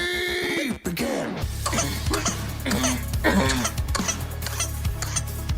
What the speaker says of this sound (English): I was a coughing baby.